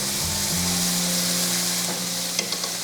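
Aromatics and yellow lantern chili sauce stir-fry in hot oil in a heated clay pot for a pickled-cabbage beef dish, giving a loud, continuous sizzle with a few faint scraping clinks near the end.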